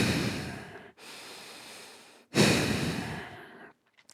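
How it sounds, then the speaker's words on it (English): Forceful bhastrika bellows breathing from a yoga practice, with two long, loud rushing exhalations, the second stronger, then a brief quiet tail of softer breaths. "The Bhastrika, the bellows breath"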